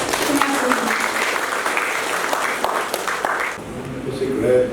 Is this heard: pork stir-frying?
no